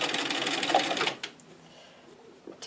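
A sewing machine stitches ruffles onto a table runner in a fast, dense mechanical whir that runs for about a second, then stops and leaves faint rustling and handling noise.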